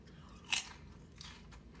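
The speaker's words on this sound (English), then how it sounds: "Can you hear that crunch? It's quite good." A homemade baked potato chip gives one sharp, close crunch as it is bitten, followed by a softer second crunch of chewing, with no talk.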